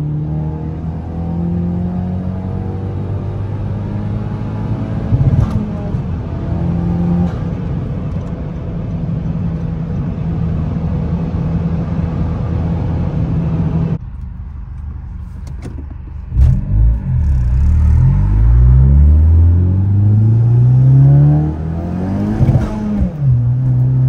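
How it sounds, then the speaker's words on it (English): A 10th-generation Honda Civic Si driving on the road, its engine droning steadily with rising and falling revs as it accelerates and shifts, heard from inside the cabin with no talk. "I can honestly say the car is driving pretty smooth."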